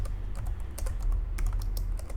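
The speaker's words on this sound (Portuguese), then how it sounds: "Eu estou errando as teclas do teclado." Rapid, close typing on a computer keyboard, a steady stream of light key clicks with no voice.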